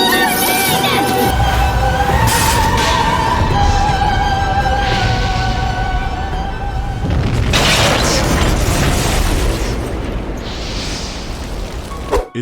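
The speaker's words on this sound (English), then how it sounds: "Grant your humble servant the ultimate attack spell! Explosion!" A massive explosion attack spell from the PlayStation game Parasite Eve erupts as a loud, continuous booming rumble with crackling bursts, swelling again midway before slowly fading.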